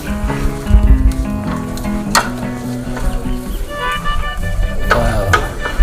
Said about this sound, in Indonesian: Menggiang mengaduk itu harus ekstra karena banyak nih guys.